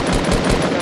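Rapid automatic gunfire in a Fortnite Battle Royale match, a loud, dense burst of evenly spaced shots filling the whole moment with no voices.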